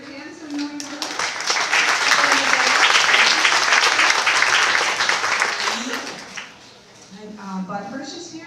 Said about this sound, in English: Want to stand up so we can clap, please?